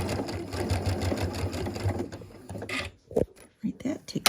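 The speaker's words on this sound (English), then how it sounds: "So we're going to sew this piece." A sewing machine stitches a quilt piece, a fast, close mechanical whir of needle strokes lasting a few seconds before it stops, followed by brief handling noises and a voice speaking.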